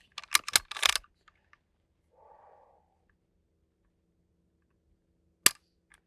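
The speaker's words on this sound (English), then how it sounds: "I'm going to shut up and dry fire." A Taurus pistol gives one sharp, isolated click as it is dry fired, late in the clip. Before it come close handling clatter and a faint breath, with quiet between, and no one speaks.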